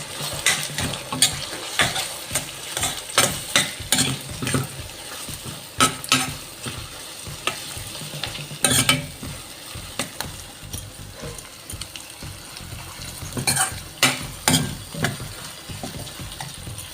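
A blended masala paste of fried onion, cashew and tomato sizzles and fries in a pan for an egg kofta curry, with a spoon repeatedly scraping and stirring against the metal in loud, uneven strokes.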